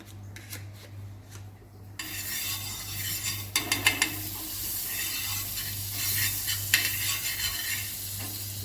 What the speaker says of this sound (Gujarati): હવે તવીમાં શેકવા મૂકી દઈશું આપણે એને.